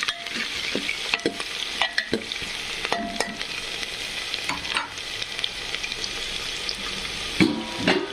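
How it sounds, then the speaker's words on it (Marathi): Cumin, mustard seeds and onion frying in a pan, a continuous sizzle broken by frequent stirring clicks and scrapes of a spoon against the pan, with no voice. "तर मस्तपैकी असे आपण जिरे मोहरी आणि कांदा फ्राय केलेला आहे."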